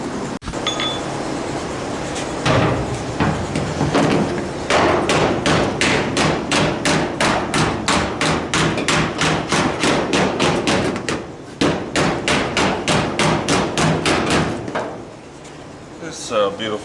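Steel limousine bodywork being hammered with a chunk of torsion bar, a fast run of loud, evenly spaced metallic blows close by, pausing briefly before the rhythmic strikes resume.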